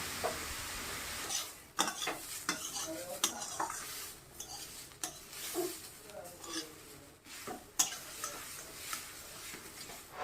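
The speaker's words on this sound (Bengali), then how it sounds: "গাজরটা আমি এখন খুব ভালো করে ভেজে নেব।" Grated carrot fries in a wok (kadai) for carrot kheer while a utensil stirs it, producing irregular metallic scrapes and clinks over a soft, quiet sizzle, close by, with no talking.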